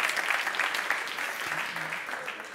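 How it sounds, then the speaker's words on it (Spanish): Applause from an audience at a talk given by a Real Madrid university school representative, a steady wash of many hands clapping that carries on for the whole stretch, fairly loud and close. "yo creo que esto se merece un aplauso"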